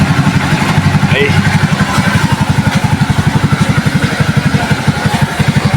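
A Suzuki Shooter 115 FI motorcycle engine idling after an overhaul, a close, steady rhythmic putter with even pulses and no revving throughout.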